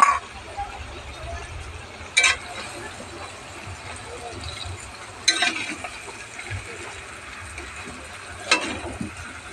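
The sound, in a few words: mutton and potatoes being sautéed (koshano) in a pan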